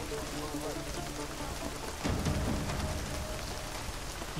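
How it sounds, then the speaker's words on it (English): Steady rain pours in the video game Deus Ex Mankind Divided, a dense, even hiss of drops on surfaces with a brief low rumble midway, fairly quiet overall. "Oh my god, this rain."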